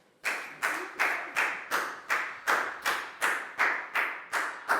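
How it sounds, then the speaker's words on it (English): A classroom of students claps in a unison, steady rhythm, about a dozen evenly spaced, crisp group claps in a row, close and fairly loud with no talking. "High five and a big round of applause for Bang Pon"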